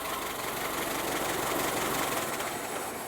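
A Ford Model T engine idles steadily nearby, giving a continuous, even, low mechanical chug with a faint knocking texture and no voices.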